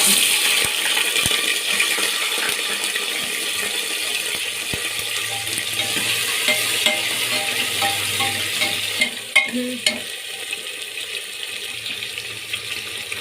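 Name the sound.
onions frying in tempering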